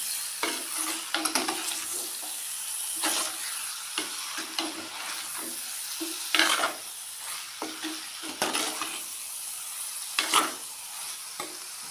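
Ingredients for a roasted-coconut chicken curry sauté and get stirred in a pan, a steady close sizzle broken by frequent scraping stirs of the spatula, with no voices.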